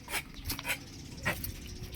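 A sick dog makes a few short, soft huffs and whimpers close by, in an otherwise quiet room.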